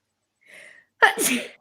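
A single sharp sneeze, preceded by a brief quiet intake of breath, close and loud against silence.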